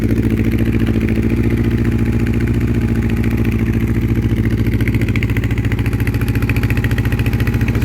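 A 1984 Honda CB700SC Nighthawk motorcycle engine idles on choke, close and loud, with a steady, even pulsing throb and a slightly uneven mechanical clatter throughout.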